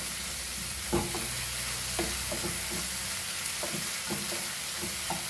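Turmeric powder frying in a pan for a Goan pomfret side dish, a soft steady sizzle with a few light knocks of a spoon stirring against the pan.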